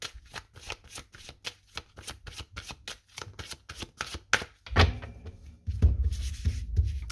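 Tarot cards being shuffled by hand, a rapid series of crisp riffling flicks in quick rhythm, then a few soft thumps and shuffling rustles near the mic.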